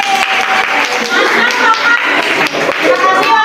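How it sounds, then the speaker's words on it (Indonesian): A class audience at a university teacher-training session claps together: a continuous, fairly loud patter of many hands, with voices mixed in underneath. "Boleh tepuk tangan?"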